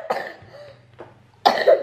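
A young child coughs a few times at close range in a home at bedtime, in short harsh bursts with the last cough the strongest.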